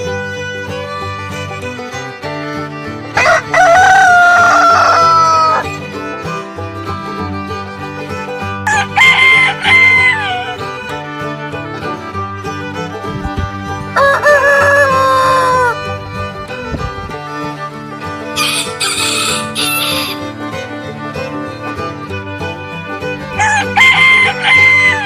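A domestic rooster crows loudly about five times at intervals of a few seconds, each crow a long, strained call, with hens clucking softly in between.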